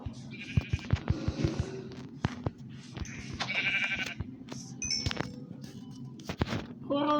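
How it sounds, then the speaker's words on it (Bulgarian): Sheep bleating in the Minecraft video game, short repeated bleats scattered through the clip alongside game sound effects and footstep-like crunches, with a voice talking in between. "Две овце спред."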